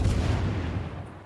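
A Moltke warship's bow turrets firing a salvo in World of Warships, one heavy, close boom that hits at once and then rolls off into a low, fading rumble.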